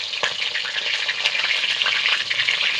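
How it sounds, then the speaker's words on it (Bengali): Shapla water lily bhewa fry in hot oil with a loud, continuous, bubbling sizzle that stays close and steady and carries a few small pops, with no voices over it. "এভাবে আমি সবগুলো ভেওয়া তেলে ছেড়ে দেব।"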